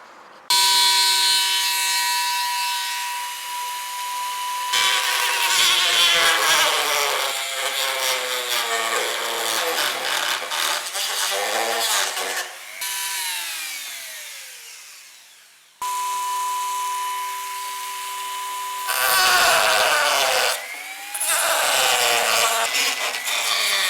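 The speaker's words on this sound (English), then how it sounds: "So let's get the Dremel out." Dremel rotary tool cutting a hole in a Mugen air duct on a Honda, a high, steady whine that grinds and bogs as it bites in, stopping briefly and restarting, loud and close with no talking.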